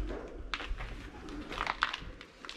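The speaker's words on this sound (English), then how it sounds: "we're going to find there's going to be loads of pigeons" Pigeons coo inside the abandoned Bass Maltings brewery, soft and faint, a few low calls from some distance in a quiet, echoing space with no one talking.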